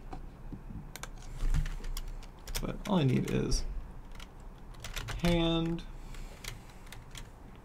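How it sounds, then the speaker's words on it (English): Fast clicking keystrokes on a computer keyboard come in short bursts. Close-up and moderately loud, they sit under a person talking. "I think I'm just gonna type them in."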